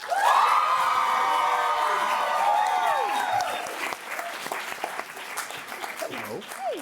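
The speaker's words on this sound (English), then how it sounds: "That was some Prince Charming level applause you got there" Audience applause for an actor at PaleyFest in New York fills the room: loud, dense clapping with cheers and whoops from a large crowd, then thinning out as a few voices and scattered claps carry on.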